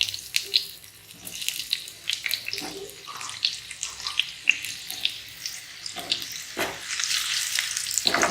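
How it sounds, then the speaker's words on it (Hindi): Pointed gourd (parwal) frying in a hot pan at home, a continuous crackling sizzle with irregular pops and spatters, fairly close and steady throughout. "दोस्तों, इसको तब तक फ्राई करना है जब तक ये थोड़ा सुनहरा कलर इसमें ना आ जाए"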